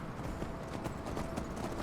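Horse hooves clip-clop steadily in Skyrim, a quiet, even walking rhythm of repeated hoof strikes with no talking.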